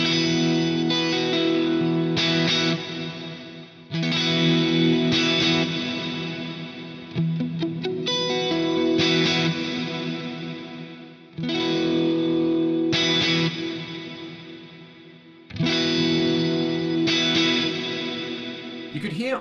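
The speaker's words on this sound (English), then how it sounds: "with the multi-tap delay engaged, there is this swelling or kind of blooming effect right at the start of the reverb before the smooth decay at the end" A processed electric guitar runs through a Plex delay reverb with multi-tap delay, sounding loud sustained chords that swell and bloom at each onset, then decay smoothly, repeating about five times with short gaps between.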